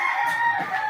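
A chicken calls out close by, a sustained, strained crow-like cluck that fills the moment loudly against faint background noise.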